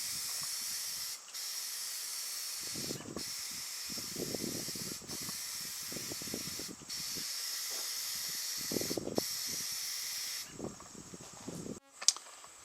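Brush spreading light machine gray paint on front steps, soft scratchy strokes in short bursts at an even rhythm, faint against a steady hiss of outdoor background noise, ending with a brief clatter.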